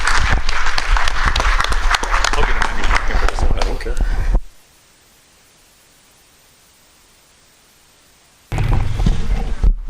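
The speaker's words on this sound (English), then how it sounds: "if we could give them a round of applause" Loud applause from a crowd at a Templeton town meeting fills the first few seconds, then stops suddenly into near silence before clapping bursts back in at the end.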